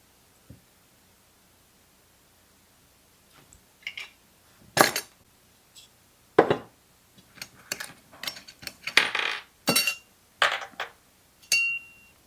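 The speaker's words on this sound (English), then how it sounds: "Let's get the muffler installed with the new gasket." A new gasket and muffler are fitted onto a Husqvarna 545 chainsaw, producing scattered close metallic clicks, clinks and tool taps in irregular bursts amid quiet pauses.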